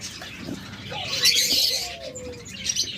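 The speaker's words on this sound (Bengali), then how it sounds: "কিছু ককাটেল দিয়ে আপনাদের শুরু করছি দেখুন ককাটেলগুলো কিন্তু টেম" Tame cockatiels at a bird market call in a few short chirps and whistles, near and moderately loud, with other cage birds and faint background noise around them.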